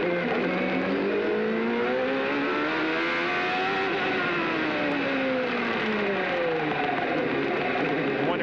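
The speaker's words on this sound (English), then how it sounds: "The gearbox is sure something making a lot of noise." Loud whining gearbox of a CART race car during the 1995 Australian round, a strained mechanical howl rising and falling in pitch over continuous engine roar, with commentary voices faintly mixed in.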